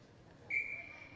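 A referee's whistle at a junior hockey game, Burlington Jr Barracudas against Central York Jr Panthers, sounds once as a single sustained faint blast in the second half, well back in a quiet arena ambience.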